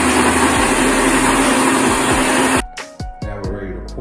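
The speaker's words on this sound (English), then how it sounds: "So we'll blend it for about 15 to 20 seconds." An electric blender whirs loudly and steadily while mixing a thick vanilla milkshake made with almond milk, then cuts off abruptly, leaving a few clunks and knocks as it winds down.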